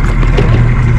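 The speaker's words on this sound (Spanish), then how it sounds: "Ahí está la interceptora, la que cuida la salida y la entrada de las lanchas" Patrol interceptor boat passing on open water near the harbor entrance during a family fishing trip, its engine a steady close drone filling the whole moment without pause.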